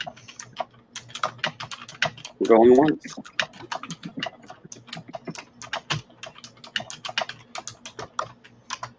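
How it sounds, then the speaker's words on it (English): Rapid typing on a computer keyboard during a live online jewelry auction, steady close clicks throughout with a person talking over them. "I thought I typed loud."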